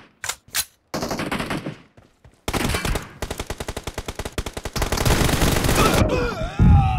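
Gunfire in the game PUBG played on a Realme C31 phone: loud close single shots, then rapid automatic bursts and a long sustained volley, ending in a swooping effect; no talking.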